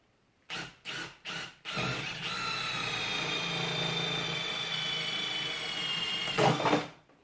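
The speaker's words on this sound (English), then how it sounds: "same thing as before, drill a hole." Power drill boring a hole in PVC for a teardrop camper door, three short trigger bursts followed by a sustained high whirring drill run that cuts off near the end.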